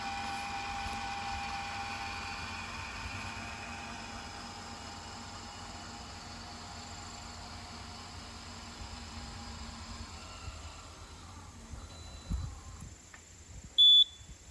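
A Ghost Controls solar dual-arm gate opener gives a single short, sharp electronic beep near the end after the gate closes, heard over a steady outdoor hum and low background rumble.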